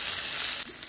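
Small onion pieces sizzle loudly in a hot pan for an egg drop curry, a steady frying hiss that dips slightly near the end.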